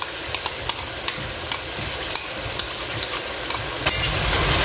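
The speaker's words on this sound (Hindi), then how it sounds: "चम्मच चलाएँगे, मिक्स करेंगे।" A spoon stirs cream into a simmering white chicken karahi. Regular light clinks against the pan sound over a continuous bubbling sizzle, which grows a little louder toward the end.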